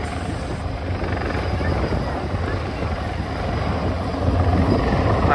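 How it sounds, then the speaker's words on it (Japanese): A helicopter hovers low over the sea near the Yuigahama shore, its rotor roaring as a continuous close, heavy wash of noise with wind buffeting, while a voice talks faintly underneath. "ヘリコプターがホバリングというか、"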